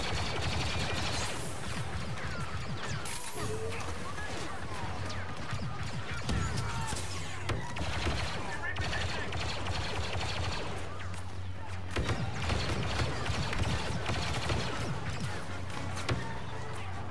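Gunfire and crashing impacts from a Star Wars Battlefront II match, dense and continuous with bursts of shots and heavy hits throughout, loud and close.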